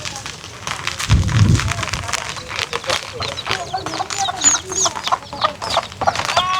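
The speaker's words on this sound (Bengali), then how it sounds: "এই যে মুরগির বাচ্চা সহ কিন্তু মুরগি" Hens with their chicks cluck around a rural homestead with poultry, giving repeated short clucks and peeps at close range, mixed with a background voice.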